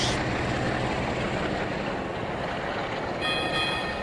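A train rumbles past in The Railway UE4 railway signalling game, a steady loud broadband roar of wheels and engine with a faint whistle-like tone near the end.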